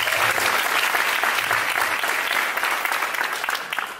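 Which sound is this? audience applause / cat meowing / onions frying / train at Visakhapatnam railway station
audience applause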